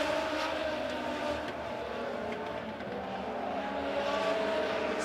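Several race cars roar in a close pack for the lead on a Springfield Raceway oval during a Legend car A-Main. Engines howl steadily and loudly throughout with no pause, and a faint tire squeal sits in the mix.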